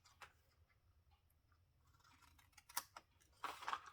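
Scissors cutting card stock for a 3x3 card set and box, a few quiet snips and crisp crunching cuts close up, growing louder toward the end.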